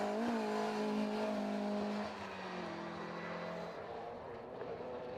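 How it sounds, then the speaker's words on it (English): Retro rallycross race cars, including an understeering Mini, drive a circuit with loose and tarmac sections, the engine noise loud and continuous with a steady drone that shifts in pitch as cars pass, no voices present. "the understeering Mini of Stewart BOWES comes through in second place"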